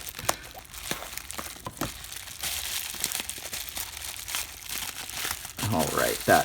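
Scissors cut into Pokemon card packaging with sharp crinkling and snipping plastic sounds, a series of irregular close crunches, with a louder rustle near the end.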